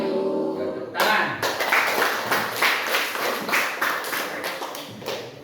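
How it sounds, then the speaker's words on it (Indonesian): Classroom clapping by students in a teaching session, starting abruptly after a brief quiet lead-in and continuing as a rhythmic, fairly even patter of many hands, moderately loud. "Tepuk tangan"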